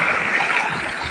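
Water gushes steadily from a solar-powered open well pump drawing from about 25 feet down, a dense, loud rushing wash with no pauses over a brief stretch.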